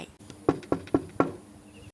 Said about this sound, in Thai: เสียงเคาะกระจกรถทำให้เอ็มต้องเปิดเปลือกตาขึ้นมามอง